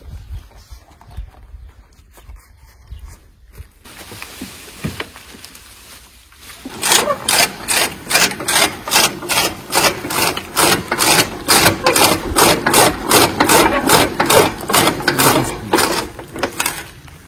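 A chaff cutter slicing wood: a quiet start with faint handling, then a fast regular chopping rhythm of blade strikes, loud and close, continuing to the end.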